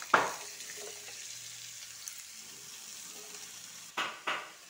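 Bottle gourd tipped into a hot pan for Bengali shukto, with a sharp sizzle at the start, a low steady fry underneath, and a few louder scraping stirs near the end.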